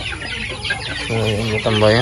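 Chickens cluck loudly and close by, with a sequence of harmonic clucks that swell toward the end over a busy farmyard background, while a person speaks briefly underneath.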